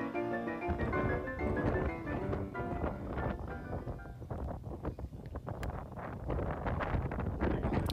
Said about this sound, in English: Wind was wreaking havoc with our tee shots on this one